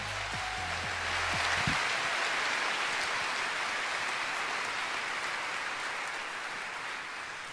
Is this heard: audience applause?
yes